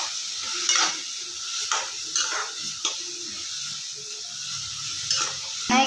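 Capsicum sautés in hot oil in a pan for a restaurant-style capsicum palya, a steady close sizzle broken by periodic scraping stir strokes and light pan knocks, with no talking.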